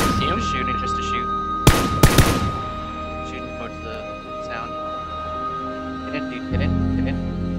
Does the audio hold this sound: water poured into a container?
no